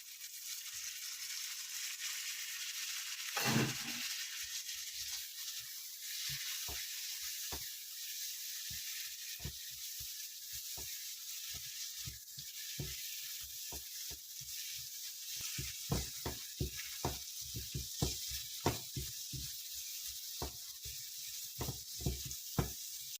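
Masala frying in a pan for grilled fish as tomatoes are added: a steady, close sizzling hiss runs throughout, broken by frequent light knocks and scrapes of stirring that grow busier toward the end.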